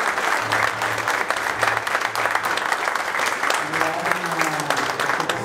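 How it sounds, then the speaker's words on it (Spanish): An audience at a graduation celebration claps loudly and steadily for the whole stretch, with a few voices murmuring and talking underneath the applause. "Fuerte aplauso."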